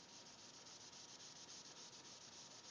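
Wool cloth rubbed against a hanging PVC pipe makes a steady, close, continuous scratchy friction sound with quick repeated strokes, heard alone.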